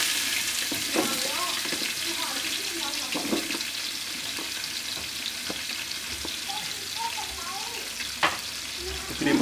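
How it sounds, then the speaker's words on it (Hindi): Onions frying in hot oil for a white chickpea pulao make a steady broadband sizzle that runs throughout, with scattered crackles and spoon scrapes stirring the pan. "हमने ऑयल गरम कर लिया। अब इसमें हम प्याज डालेंगे।"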